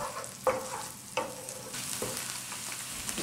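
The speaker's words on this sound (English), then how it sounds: "Then I added the prepared sauce into the onion mixture and cooked it on high flame" Prepared sauce and an onion mixture cook on a high flame, giving a soft sizzle broken by three or four clear stirring scrapes in the pan, near and without voices.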